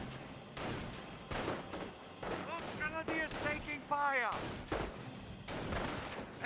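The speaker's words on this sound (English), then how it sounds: "MG-42 now deployed in the field." An MG-42 machine gun in Company of Heroes fires in short bursts among other battlefield gunfire, under a commentator's voice that talks through most of the clip.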